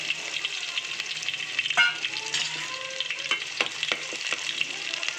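Chopped garlic sizzles in hot coconut oil, a steady close crackle with bright popping spatters throughout.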